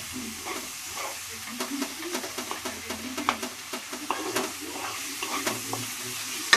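Fried fish heads are stirred into moong dal in a pan, giving a soft bubbling sizzle with irregular clicks and scrapes of the utensil, fairly quiet and without speech.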